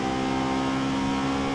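A turbocharged Honda Civic engine in a video game hums at a steady, high pitch, a sustained buzzing whir with no breaks, fairly loud and close.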